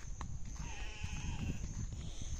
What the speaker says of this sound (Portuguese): Vou mostrar aqui minhas cabras, gente. Minhas cordeiras.